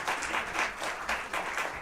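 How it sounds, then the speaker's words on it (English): Audience applause for a band at a live music venue, a full burst of many hands clapping that pulses in waves, moderately loud and close, with no talk over it. "These guys give these guys another round of applause."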